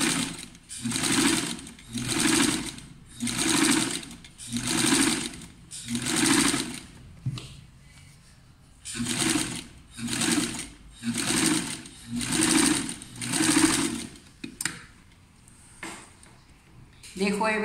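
Sewing machine stitching a long loose seam, repeated short bursts of close, fast mechanical whirring in two runs separated by a pause, with a brief clunk between.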